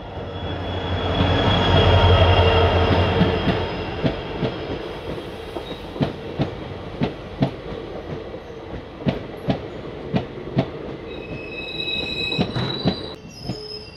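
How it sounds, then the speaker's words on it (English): The Shivamogga–Tumkur Express, hauled by a WDP4 diesel locomotive, departs Bhadravati station: a heavy rumble swells early on, then gives way to a regular clickety-clack of wheels over rail joints with occasional squeals, loud and close. "Shivamogga Tumkur Express with KGM WDP4 departing from Bhadravati at sharp 4:30 AM."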